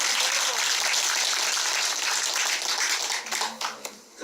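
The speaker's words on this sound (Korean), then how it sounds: "박수 한번 해주세요." A crowd at a political campaign rally claps in a dense burst for about three seconds, then the applause breaks into scattered claps and fades as a voice returns.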